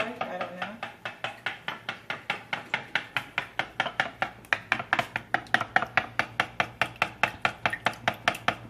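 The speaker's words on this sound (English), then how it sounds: "I like to use the wooden spoon because I can really chop down into the yolk of the egg to mix it." Wooden spoon chopping down into egg yolks in a bowl while making low carb chocolate chip coconut muffins, a steady run of close, even knocks and scrapes, about three or four per second.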